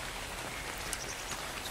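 Steady, dense rainfall patters on surfaces in the island survival game Ark Survival Evolved, a continuous hiss with scattered sharper drops.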